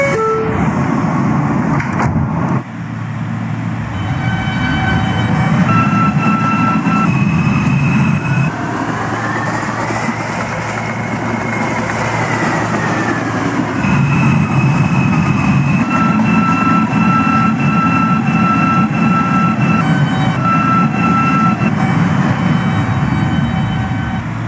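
An R160A subway train on the N line toward Astoria-Ditmars in a Roblox game runs with a steady rumbling roar, rising and falling motor whine and a horn toot near the start, continuous and loud.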